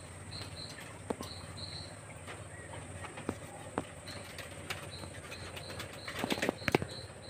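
Pigeons at a water dish make scattered faint taps and brief wing flutters, with a cluster of sharper flaps near the end, against a steady insect chirring background.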